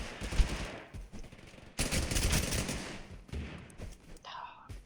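Mac 10 submachine gun fire in the video game Totally Accurate Battlegrounds, rapid automatic bursts in several strings with brief gaps, loud and close, game effects and muffled sounds mixed in.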